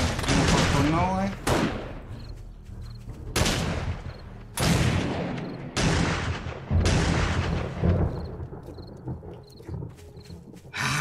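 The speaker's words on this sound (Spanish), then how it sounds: "Disparé 14 veces, vato." Gunfire in the video game 7 Days to Die during a zombie horde night, about five loud, sharp booming shots spaced a second or two apart, each trailing off into a long decay, with some talking in between.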